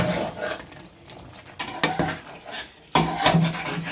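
Yogurt is stirred into a black pepper chicken karahi in a pan, with close scraping and clanking strokes in uneven bursts over a faint sizzle.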